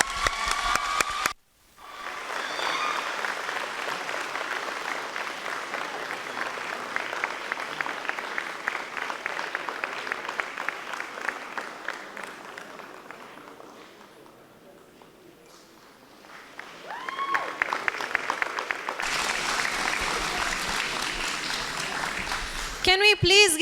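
Sustained audience applause fills a school prize giving ceremony, loud and continuous, dipping briefly toward the middle before swelling again.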